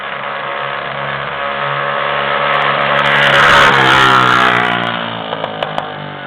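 A 50cc dirt bike engine revs loudly as it speeds past outdoors, a buzzing whine that swells to a peak and then fades, with a few sharp pops near the end.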